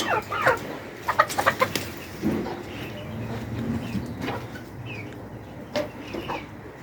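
Chickens cluck in a coop during winter at -3 degrees, with irregular close clucks and short squawks over a steady low background hum.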